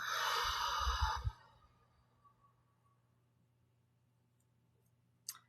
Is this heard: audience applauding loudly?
no